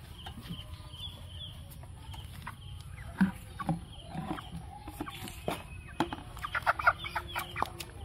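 A chicken in a village setting clucks intermittently before slaughter, short close clucks becoming busier toward the end over a low outdoor rumble.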